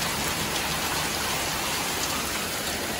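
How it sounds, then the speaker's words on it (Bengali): Heavy rain pours steadily onto a rooftop during a thunderstorm, a loud, dense, unbroken wash of noise with no gaps and no voices. "দেখি এখানে কেমন বৃষ্টি হচ্ছে,"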